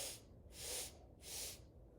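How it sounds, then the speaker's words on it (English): Three soft sniffs through the nose, each a short breathy rush of air followed by a brief pause, close and quiet, drawn in as a single inhale. "Inhale in 3 sniffs."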